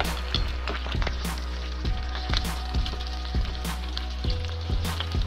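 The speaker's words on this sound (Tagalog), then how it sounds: "Deep fry natin siya guys." Chicken wings deep frying in hot oil give off a steady close-up sizzle dotted with rhythmic crackles and pops, with no voices.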